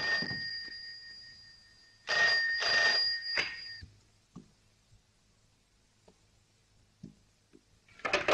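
A telephone bell rings in two bursts with a pause between them, loud and close in a quiet room, followed by a few soft knocks and taps.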